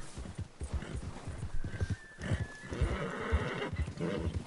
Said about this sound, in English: How do I calm my horse down?